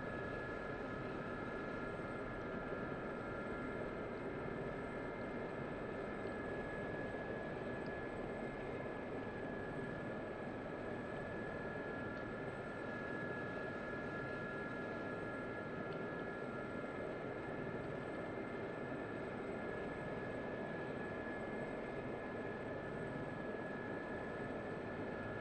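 A SA342 Gazelle helicopter in the DCS World flight simulator holds a steady, continuous rotor and turbine drone with a whining tonal hum, moderately loud and unchanging throughout, with no talk.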